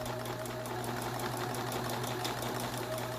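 A sewing machine stitches the final seam of a fabric face mask, a steady fast mechanical whir with rapid needle ticking, close and continuous, no talking.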